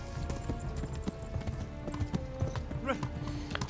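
Horse hooves clip-clop at a riding pace in Kingdom Come: Deliverance, a steady rhythmic series of near hoofbeats with a brief whinny and faint game ambience underneath.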